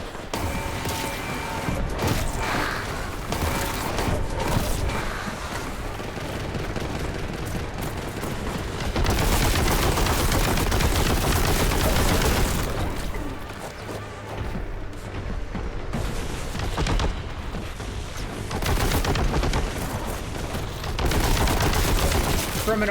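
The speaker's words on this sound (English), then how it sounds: "the Heavy Bolter might be one of the greatest first-person shooter guns, like, ever" Heavy Bolter gunfire in the shooter Warhammer 40K: Boltgun roars in dense, sustained volleys of loud, booming shots that barely let up.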